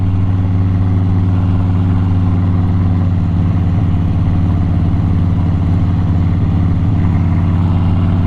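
A 2008 Harley-Davidson Crossbones motorcycle engine runs in a steady loud low drone while riding, wind noise over it and no talking.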